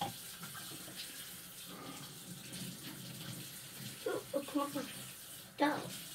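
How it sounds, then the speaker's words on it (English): Tap water runs steadily into a sink while a spoon is rinsed under it, a close, continuous flow with a few brief clinks and splashes near the end. "I'm gonna rinse the spoon off real quick"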